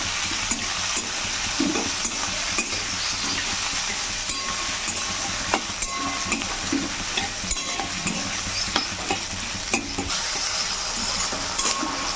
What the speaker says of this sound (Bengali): ওই তেলের মধ্যে ফোড়ন হয়ে গেছে, এরপর আমি পেঁয়াজগুলো দিয়ে দেবো।